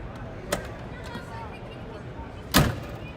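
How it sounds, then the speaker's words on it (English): A heavy, solid thud of a car door shutting, following a lighter click earlier, over a low background rumble. "the door to sound like a bank vault when it closes"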